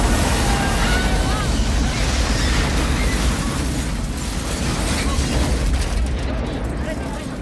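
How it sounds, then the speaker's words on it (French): An explosion from the action film Double Team erupts as a loud, sustained broadband roar and rumble that slowly fades over several seconds, with no clear speech. "Voyons d'abord comment Choi Ark filme une explosion dans Double Team."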